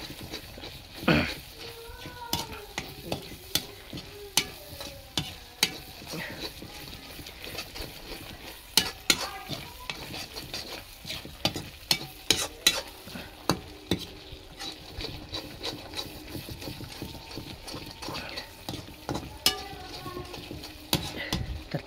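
Crab being stirred and fried in red masala gravy in a hot kadai, repeated sharp scraping strokes of a spatula over a low, thick sizzle, close and rhythmic across the whole stretch.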